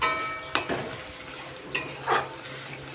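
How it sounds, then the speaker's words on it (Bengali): Fish curry masala with poppy seeds and green chilies is stirred in a sizzling pan. A low fry hiss runs underneath, broken by a few sharp scrapes and clinks of a spoon against metal. No one talks. "আমি একদম হালকা করে একটু নাড়িয়ে চাড়িয়ে নেব আর এর মধ্যে দিয়ে দিচ্ছি দুটো কাঁচা লঙ্কা"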